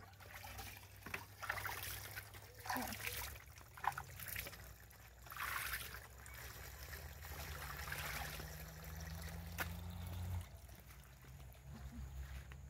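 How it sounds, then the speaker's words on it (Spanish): Water is poured from a container onto the soil around a newly planted avocado sapling or palm in hot weather, a close, uneven trickling and splashing that runs for several seconds at a time and then pauses. "Voy a echar un poquito de agua quizá."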